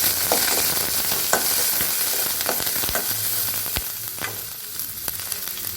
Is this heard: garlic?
yes